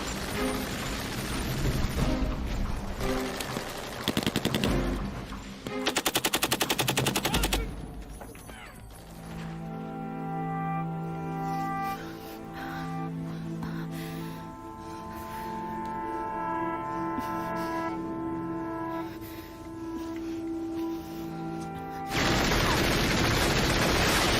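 Machine-gun fire from a war film battle scene, heavy rapid bursts at the start and again at the end with an orchestral score filling the quieter stretch between.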